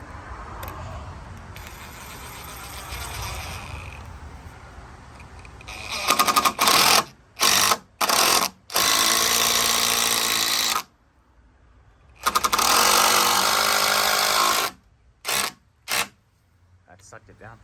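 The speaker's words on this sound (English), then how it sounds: "So we're gonna go ahead and get this mounted up here with one of our 6-inch screws, and Logan's gonna drive that in for us." A power driver sinks a 6-inch screw into pallet wood on a pallet chicken coop, the motor whirring in a few loud bursts of several seconds with short pauses between, after quieter talk and workshop noise.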